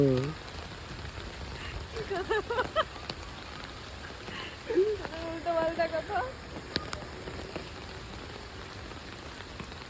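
Steady rain falling on surfaces outdoors, a constant close patter with scattered drops, while a few people talk intermittently.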